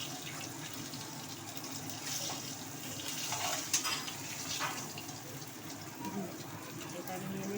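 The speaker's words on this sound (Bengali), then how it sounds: "আর এখানে ভেটকি মাছ ভাজা হচ্ছে" Bhetki fish fries in a pan with a steady, soft hiss and crackle, low in level, with occasional small clinks and a faint voice under it.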